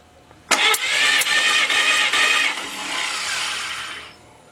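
A Willys engine cranks over with spark plugs out during a cold compression test, a loud, close, whirring starter-driven churn that runs for about three and a half seconds and then stops.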